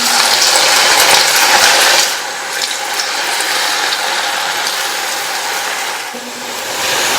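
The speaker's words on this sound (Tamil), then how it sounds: "கடாயில எண்ணெய் விட்டு சூடாயிடுச்சு. கொஞ்சம் கொஞ்சமா எடுத்து இந்த மாதிரி எண்ணெயில சேர்த்துடலாம்." Soaked pieces frying in hot oil in a kadai, a dense steady sizzle and crackle that stays loud throughout, easing slightly after the first couple of seconds, with no talk.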